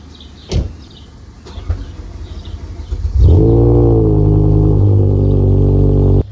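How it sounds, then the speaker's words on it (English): A BMW M5 E60 with a V10 engine starts up after a few clicks and thuds, then settles into a loud, steady, rumbling idle as it warms up. "I might as well warm up the M5 too."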